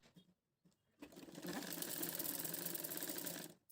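A sewing machine stitches a girl's lehenga blouse, running in a steady, continuous whir for a couple of seconds after a few brief starts, close and fairly loud with no talk over it.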